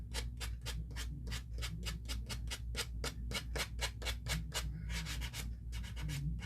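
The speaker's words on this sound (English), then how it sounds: "what I'm going to do is just sand around these edges right here" Hand sanding around the edges of a craft piece, brisk repeated scratchy rubbing strokes in an even rhythm, close and fairly quiet with no talking.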